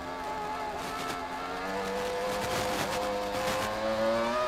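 Formula 1 cars from the 2000 season scream away at the race start, a dense layered engine howl with rising pitch as the pack accelerates, steady and fairly distant, with no talk.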